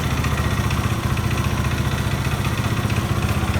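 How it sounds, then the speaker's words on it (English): A Benelli TNT25 motorcycle engine idles steadily up close while warming up after an oil change, a loud, even mechanical putter with a slight clatter and no talking. "I'm just heating up the engine"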